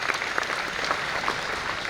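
Applause at a rally, a crowd clapping hard and fast in a continuous, even roar of hands, loud and close for the whole stretch with no one speaking over it.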